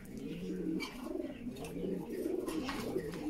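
A pair of active Lahori breeding pigeons coo steadily, their low, throaty coos repeating in overlapping phrases at close range for the whole stretch, with no talk over them.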